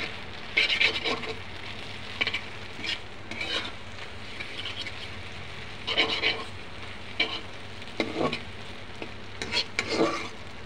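Boiled noodles being stir-fried in a pan for a school tiffin: soft sizzling runs underneath while a utensil scrapes and stirs in irregular bursts, close and fairly quiet, with no talking.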